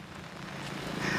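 Steady rain patters on an open umbrella outdoors beside a paved road, a dense, even hiss of drops that swells slightly toward the end.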